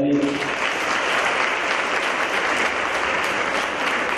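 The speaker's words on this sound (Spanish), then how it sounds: "un aplauso para ellos." An audience at an event in the colonial zone of Santo Domingo, Dominican Republic, breaks into loud, sustained applause right after a voice briefly speaks at the start, the clapping continuing evenly to the end.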